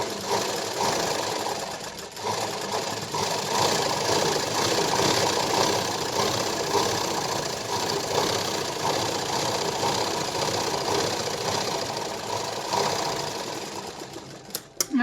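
A sewing machine runs steadily while stitching the lining of a blouse, a continuous close mechanical whir and rapid needle clatter lasting the whole stretch, stopping only at the very end.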